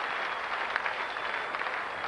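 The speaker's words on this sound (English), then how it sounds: "cheers from the crowd" Darts crowd at the Lakeside world championship cheering and applauding steadily, a dense continuous wash of clapping and shouts throughout.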